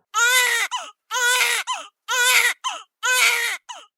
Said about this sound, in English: the sound of that baby crying means it's time for this week's segment